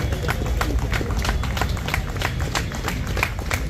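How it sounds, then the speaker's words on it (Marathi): An audience at an award announcement in a cultural hall claps hard in approval, a dense, even patter of many hands continuing steadily at close range, with faint voices mixed in. "आपण जोरदार टाळ्या वाजवायच्या आहेत आणि त्यांना अनुमोदन करायचं आहे."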